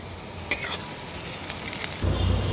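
Ginger garlic paste fries with onions in a pan, a soft steady sizzle broken by a sharp clank of a utensil and stirring scrapes, swelling louder near the end.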